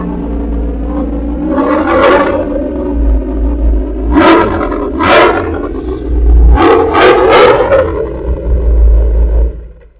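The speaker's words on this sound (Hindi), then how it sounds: "इसके अंदर this exhaust from CR racing, बहुत ही ज्यादा इसका भी अमेज साउंड होने वाला है" A Kawasaki superbike fitted with a CR Racing exhaust revs hard in several sharp bursts over a steady deep idle, loud and close, with throaty rising roars between the blips.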